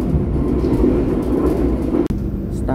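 Passenger train running straight through Karangpucung station in Banjar, a station on a curve, heard from on board as a loud continuous rumble and roar with one sharp break near the end.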